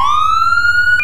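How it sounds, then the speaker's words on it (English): A police car siren on a state trooper car in Garry's Mod rises in a single loud electronic wail, sweeping upward and leveling out, then cuts off abruptly. "It's the same siren tone,"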